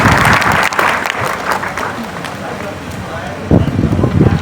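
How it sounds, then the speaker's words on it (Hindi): Students in a Figma design class give themselves loud, vigorous applause, a close, full burst of clapping with a short dip and a fresh surge partway through, and voices mixed in. "चले एक बार अपने लिए जोरदार तालियां बजाएं"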